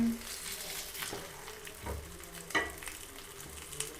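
Fish frying in a pan for a Tamil fish fry, hissing and sizzling steadily close up, with a few soft clatters as the pieces are turned over.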